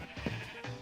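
Sheep bleating in the Minecraft video game, two short nasal bleats close together, fairly close and clear with no talking.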